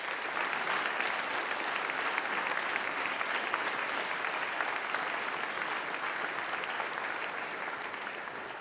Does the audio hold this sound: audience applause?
yes